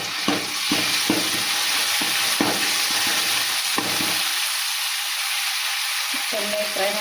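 Green chili paste frying in a pan for an amaranth leaf stir-fry, a close sizzle broken by repeated spatula scrapes and taps, easing toward quiet hiss, with a voice briefly heard near the end.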